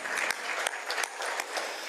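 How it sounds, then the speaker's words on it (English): An indoor audience at a Rotary meeting claps for a few seconds, a fairly sparse, moderately quiet patter of hands with distinct individual claps. "let's give him some more applause"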